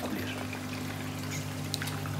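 Water pours steadily from a small waterfall into a pool inside a paludarium, a continuous close trickling wash with a faint hum beneath.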